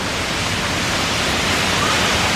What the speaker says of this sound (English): We are behind a waterfall.